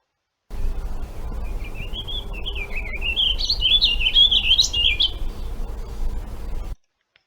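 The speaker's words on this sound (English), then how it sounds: "it's a longer phrase of slurred notes that rapidly alternate between high and low pitches" A vireo sings one long, continuous phrase of slurred whistled notes that rapidly jump between high and low pitches, heard clearly over faint low background rumble.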